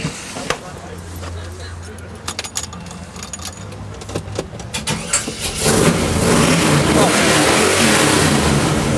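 Rambler car fitted with a 502 engine revs up beside a London cafe, a deep rumble building and surging louder near the end, with people talking over the first half.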